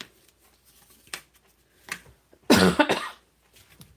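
Someone coughs indoors during card handling, faint throat noises first, then one loud close burst of coughing around the middle before quiet returns.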